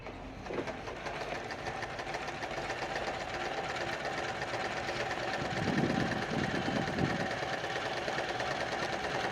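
A home sewing machine set to a short stitch length runs steadily, stitching fabric with a continuous mechanical whir and a slightly louder stretch partway through.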